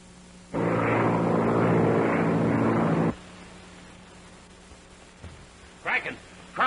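A propeller airplane heads toward an airfield in a 1933 film serial, heard as a loud broadband engine roar lasting about two and a half seconds, then silence and brief bursts of speech.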